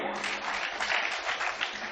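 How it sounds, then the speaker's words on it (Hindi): Dense, sustained applause from an audience at a Hindi poetry gathering in Surat, steady and loud throughout with no breaks. "एक बार जोरदार तालियां बजाएं आप"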